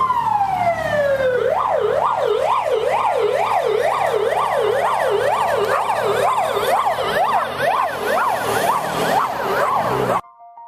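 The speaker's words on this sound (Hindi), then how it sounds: "राकेश घर जाके देखता है और तुरंत एम्बुलेंस को कॉल करता है" A cartoon ambulance siren wails loudly and continuously, starting with a rising sweep and then settling into a fast, steady up-and-down cycle that fills the whole stretch before cutting off abruptly.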